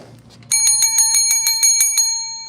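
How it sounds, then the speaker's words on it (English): A bicycle-style bell rings rapidly about nine times in a steady trill, bright and close, after a brief quiet start. "I gotta hit the bell for you guys."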